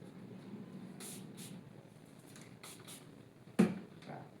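Alcohol spritzed from a handheld spray bottle while cupping equipment is prepared, a few short hissing sprays over quiet room tone, followed by one louder knock.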